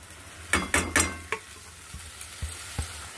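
Grated paneer mixture with salt is stirred in a pan for patal dorma, giving a few quick scraping, sizzling strokes up front, then sparse soft knocks as the spoon settles.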